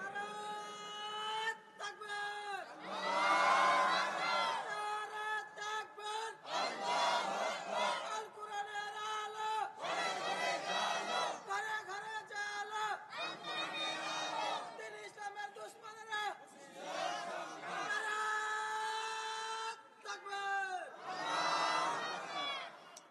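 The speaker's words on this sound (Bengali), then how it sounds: "ভাই দাঁড়ান, একটা তাকবীর দিয়ে দেন।" A crowd at a Bengali Islamic sermon gathering shouting takbir, rising in repeated loud call-and-response bursts of many voices, with short pauses between each shout.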